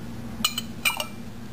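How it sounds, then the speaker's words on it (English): Ice cubes drop into a glass of iced tea, making a few bright, close clinks in two quick clusters over a quiet background hum. "Next, I'm going to put this ice cubes,"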